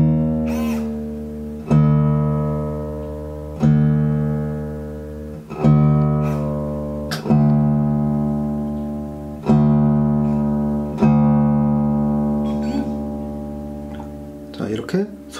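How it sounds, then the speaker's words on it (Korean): Acoustic guitar strings plucked one at a time while tuning with a Roadie 2 automatic tuner, each note ringing out and decaying before the next, about eight plucks at a steady pace, close and clear with no talking. "기타줄을 여러 번 쳐주시면 돼요"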